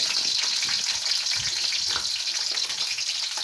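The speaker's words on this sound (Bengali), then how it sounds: "প্রথমে আমি কড়াইয়ে তেল দিব পরিমাণ মতো, দিয়ে পেঁয়াজগুলোকে আমি হালকা করে ভেজে নেব" Onions frying in oil in a kadai for a Chinese-style vegetable dish, a continuous close sizzle and bubbling hiss throughout, steady and fairly loud, with no voices.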